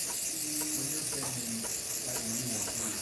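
A steady, broad hiss of steam from the steam wand of a Breville Barista Express espresso machine after a full service, with faint low mechanical tones and clicks underneath.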